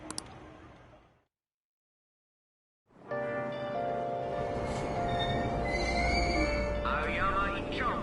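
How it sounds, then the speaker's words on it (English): A subway train in the video game Persona 5 Royal pulls into a station after a short silence, its steady rumble carrying tonal hums and faint squeals beneath a station ambience that stays loud to the end. "Train doors are now closing."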